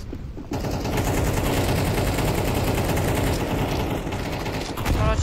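Gunfire in the game CS2, a dense, loud burst of rapid automatic shots rattling continuously for several seconds after a brief quiet start.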